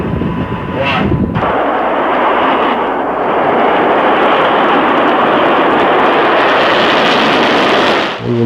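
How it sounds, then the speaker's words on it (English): Anti-missile missile lifting off from Vandenberg, heard as a loud, sustained roar that builds after a short burst and holds steady, rumbling continuously to the end. "the missile popped up through the fog"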